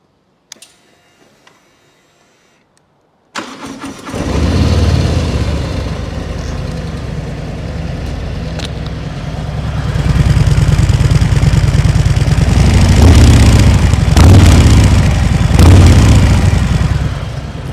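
A Harley-Davidson Fat Bob motorcycle engine cranks and fires after a few seconds of near silence, then settles into a loud, deep, lumpy idle that swells with throttle blips toward the end.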